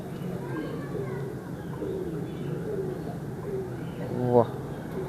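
Pigeons in Kasur coo in soft, repeated throaty phrases across the clip, with a louder burst near the end, heard close by under a steady murmur of voices.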